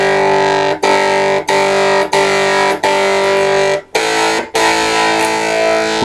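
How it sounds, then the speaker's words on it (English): A heavily distorted electric guitar through a buzz pedal with all controls maxed and the bias clipper off holds buzzing chords, each ringing several seconds before a brief break, with a thick, fuzzy, saturated tone. "with all the controls on the buzz stand all the way up and the bias clipper off"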